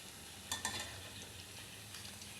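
Small fish frying in a pan, a faint, steady sizzle with a few brief stirring clinks and a sharp knock at the end, no voices.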